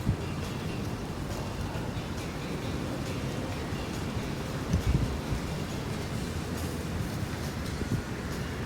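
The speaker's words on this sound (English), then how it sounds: "It's really hard to steady up in this wind" Wind gusts buffet the microphone outdoors in a steady broadband rush, with a few louder thumps breaking through.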